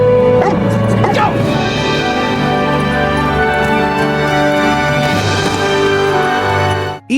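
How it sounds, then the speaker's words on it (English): A dog barks excitedly in a game of fetch, a few sharp yips and woofs near the start and again midway, over a loud sustained musical background. "He barked excitedly in reply."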